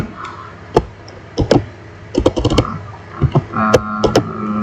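Someone types on a computer keyboard close by, making irregular clicks that fall alone or in quick clusters, with no talking.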